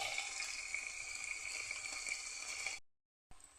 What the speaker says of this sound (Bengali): অল্প কিছুটা জল দিয়ে দিয়েছি